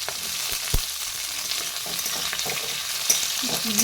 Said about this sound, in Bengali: ক্যাপসিকামগুলো একটু নাড়াচাড়া করে নিচ্ছি এইবার দিয়ে দিচ্ছি টমেটো